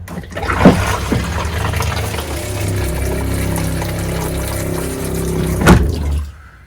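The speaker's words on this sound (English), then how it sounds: "We need to make sure the water in the toilet is replaced with antifreeze. So we do that by flushing." A camper toilet is flushed with antifreeze, giving a close, loud rush of liquid and pump-like whir that runs steadily for several seconds between two sharp thumps of the pedal or lid, then stops abruptly.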